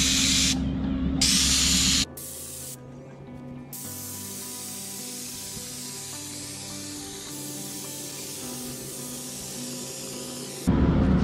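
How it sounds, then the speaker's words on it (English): A sprayer applies Liquid Rubber waterproofing coating to a retaining wall, producing a loud continuous hiss with a low motor hum beneath, interrupted by short bursts and gaps as spraying starts and stops. "Stage two, we're gonna spray the wall and back roll it."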